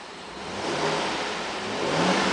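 A 2008 GMC Yukon SLT with a 5.3 V8 is revved while parked, the engine note climbing and holding in a loud, steady roar close to the microphone with no talking.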